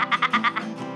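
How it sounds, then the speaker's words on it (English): A goat gives a single short, quavering bleat made of several rapid pulses, close and fairly loud, ending in a fading nasal tail. "It sounds a bit like a sheep, but it's not. It's a goat."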